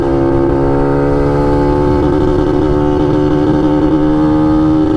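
A Yamaha RXZ two-stroke motorcycle engine with a standard exhaust and carburetor drones loud and steady, its buzzing note holding close throughout.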